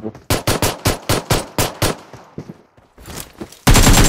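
An AKM in PUBG Mobile fires a rapid burst of about a dozen loud, close, evenly spaced shots, then a few fainter scattered shots, ending with a sudden loud blast.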